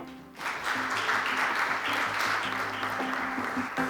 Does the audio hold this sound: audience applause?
yes